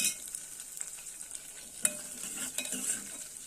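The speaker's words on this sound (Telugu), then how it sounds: "తాలింపులు ఆనియన్స్ పచ్చిమిర్చి ఏగుతున్నాయి" Onions and green chillies fry in hot oil for a tempering before brinjal goes in, giving a steady sizzle with scattered stirring scrapes and a few sharper clicks, close and without talk.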